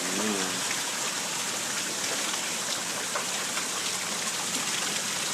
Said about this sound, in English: That is all hail.